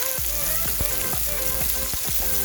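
Chopped onions tip into a hot frying pan of oil with ginger while cooking Assamese pork with sesame seeds, setting off a loud, steady sizzle with repeated clinks and scrapes of a spoon against the pan.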